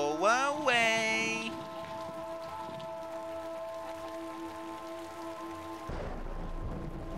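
Rain falls in the video game Typoman as a soft, steady hiss beneath sustained tonal game sounds, then the patter swells louder near the end as the tones cut out.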